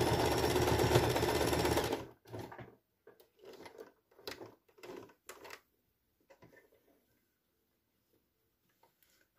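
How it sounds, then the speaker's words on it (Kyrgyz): A sewing machine stitching rows of a quilt runs in a loud, dense whir for about two seconds, then gives way to scattered clicks and short mechanical knocks before falling quiet. "Мына биз 4-чү катарды тигип баштадык."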